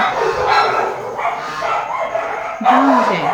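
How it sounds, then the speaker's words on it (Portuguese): Dogs bark and yip in agitated bursts nearby, with a honking, goose-like call rising near the end; a voice is faintly present underneath. "meus cachorros e gansos estão enlouquecidos"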